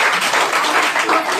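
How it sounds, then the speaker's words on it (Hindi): Brief burst of audience applause at an AWPL venue program in Shankargarh, a dense, fairly loud crowd clapping steadily without voices over it. "के लिए जोरदार तालियों से स्वागत करें।"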